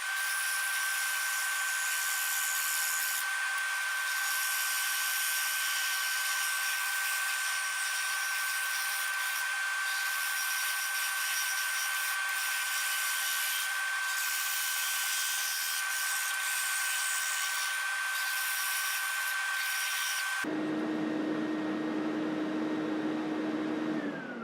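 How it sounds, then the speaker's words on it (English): A power sander works the edge of an eight-sided multi-layer wooden coaster, bringing it flush with a walnut strip; a steady, high whining drone runs for about twenty seconds, then the tone shifts lower near the end. "Then I'll sand it flush to the edge"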